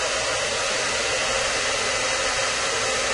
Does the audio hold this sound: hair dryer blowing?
yes